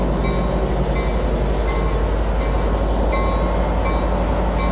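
An Amtrak Capitol Corridor train led by a 2006 F59PHI locomotive rolls through Richmond station, producing a loud, unbroken roar and rumble for the whole stretch with no pauses.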